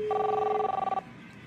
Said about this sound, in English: Well, the phone's ringing.